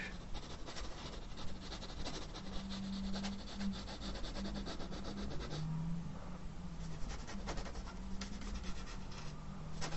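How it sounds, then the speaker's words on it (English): A paintbrush rubbing acrylic paint onto canvas to dab in trees for a landscape, a close, continuous dry scrubbing with quick strokes under a faint low hum. "Just sort of rubbing my brush."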